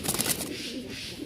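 A pair of Rajshahi Giribaz pigeons gives a brief, soft cooing call at close range, a short burst of low murmuring with faint background noise.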